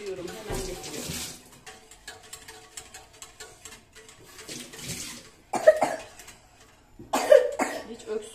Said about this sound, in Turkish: Hiç öksürüğümüz hala kesilmiyor.